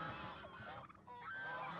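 Waterfowl being fed bread honk and quack in a busy, overlapping chorus of nasal calls that stays loud and close throughout.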